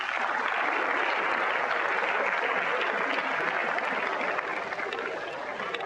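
A comedy show audience gives dense, continuous applause that fills the room at a steady loudness, fading slightly toward the end, with no voices standing out above it.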